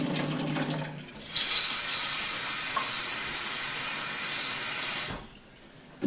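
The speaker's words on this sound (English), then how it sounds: "Rinse them a couple of times. Cool water." Cool tap water splashes and swirls in a jar of mung beans and red clover seeds for about four seconds, rinsing steadily at close range after a brief clink, with no talking.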